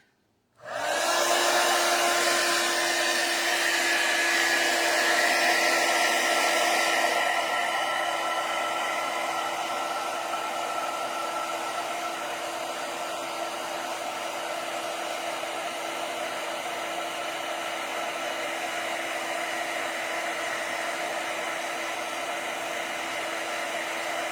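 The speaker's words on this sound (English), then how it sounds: "So I'm going to try to heat emboss it." A heat tool switches on abruptly and runs with a loud, steady blowing whir for over twenty seconds while it heat embosses a Versamark-stamped birthday card.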